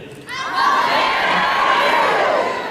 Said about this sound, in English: I can hear your cheers, and I can hear your clapping